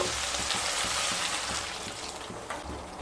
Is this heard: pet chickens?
no